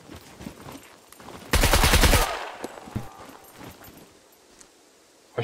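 Video game gunfire rips out in a loud, fast burst of rapid shots lasting under a second, followed by scattered quieter pops and movement noises in the background.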